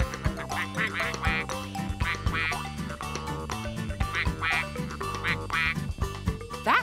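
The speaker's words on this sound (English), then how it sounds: "The ducks have gone, but I can still hear them." Repeated cartoon duck quacks sound over a busy musical background, several calls in quick succession, fairly loud and close.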